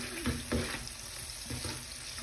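Prawns and onions frying in oil in a home kitchen, a steady close sizzle with a couple of soft stirring scrapes and no talking.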